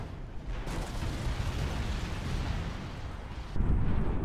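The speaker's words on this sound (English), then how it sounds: "Another nuke fires off." A nuclear missile detonates in the real-time strategy game Generals Evolution, a sustained roaring blast rumbling continuously, growing louder with a fresh heavy impact near the end.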